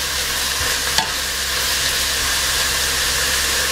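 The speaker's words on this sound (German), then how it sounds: "Und das brate ich jetzt kurz an." Food fries in a pan with a steady, dense sizzle close by, and one brief clack of utensil on pan near the start.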